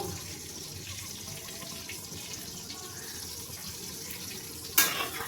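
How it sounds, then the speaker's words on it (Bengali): Whole cumin seeds fry in hot oil and butter in a pan, a steady close crackling sizzle throughout with one brief sharp clink near the end. "আমি একটু ভালো করে গোটা জিরেটা তেলের মধ্যে ভেজে নিলাম, তেল আর বাটারের মধ্যে।"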